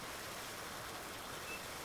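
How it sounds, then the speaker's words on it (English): Water rushing steadily from an opened valve in Farming Simulator 19, a faint, constant hissing flow with no talk over it. "So turn the valve on. Give them a good amount of water."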